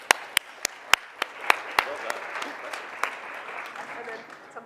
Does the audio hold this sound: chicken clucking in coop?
no